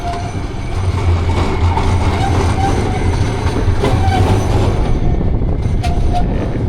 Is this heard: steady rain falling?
no